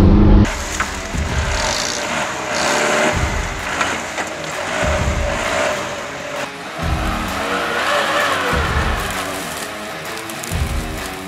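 An off-road car grinds over a rocky, uneven jungle track on Bawean island, engine revving in surges with repeated low thumps and bumps as the wheels climb rocks, steady and close throughout.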